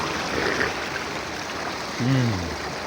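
Water flowing steadily from a warm, milk-temperature drinking spring, a continuous broadband rush close by, with a brief voice-like tonal sound near the end.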